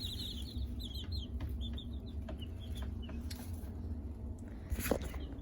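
Young chicks cluck and peep in a soft, steady chorus of short chirps over a low background hum, with a brief louder scuffle near the end; no one speaks.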